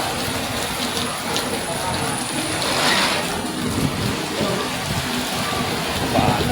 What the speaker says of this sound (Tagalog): Ayaw tumigil ng ulan, eh.